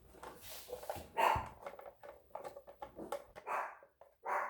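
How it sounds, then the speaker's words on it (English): Dogs bark repeatedly in short, uneven bursts with a few whimpering yips between them, close and fairly loud, with no one talking over them. "My dogs always are barking"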